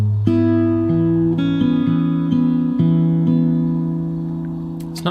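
Fingerstyle acoustic guitar plays one bar of a song from Hamilton, thumbed bass notes under ringing plucked strings, played alone and close, sustaining and slowly fading at the end.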